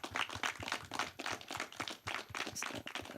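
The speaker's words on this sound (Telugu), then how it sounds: "So big big claps to him." Audience clapping at a film thank-you meet for Thimmarajupalli TV, a steady round of applause from many hands with dense, uneven claps throughout and no talk over it.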